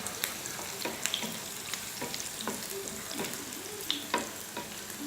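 Green chillies fry in hot oil for a chicken pickle. A steady crackling sizzle carries scattered sharp pops and the scrape of stirring, heard close and alone with no talking.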